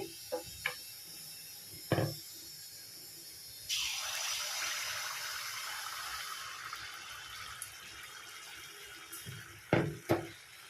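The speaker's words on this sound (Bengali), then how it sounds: "তেলটা গরম হয়ে গেছে এবারে ব্যাটারটা দিয়ে দিচ্ছি" Chhana malpua batter hits hot oil and ghee over a medium flame, bursting into a sudden loud sizzle that gradually fades, with a few sharp clicks and knocks before and after.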